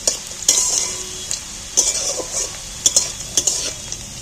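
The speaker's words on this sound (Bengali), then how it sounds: "দেখো তেলের মধ্যে আলুগুলো আমার আলু আর পেঁয়াজ ভাজা হয়ে এসেছে।" Potatoes and onions fry in hot oil with a steady, bright sizzle, broken by sharp clinks and scrapes from stirring at irregular intervals.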